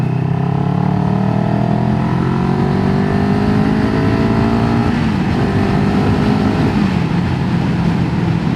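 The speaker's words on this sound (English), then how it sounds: "let's take it up to 70, see what it does" A CFMoto 700CLX Sport motorcycle in eco mode pulls hard in third gear from 30 to 70 mph, its engine note climbing steadily and loudly close up, with a brief dip near the end.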